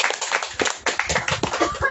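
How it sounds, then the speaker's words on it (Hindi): Congregation clapping at a church service, a loud run of dense, uneven handclaps that starts and stops in bursts over a couple of seconds. "जोरदार ताली बजा सकते हैं"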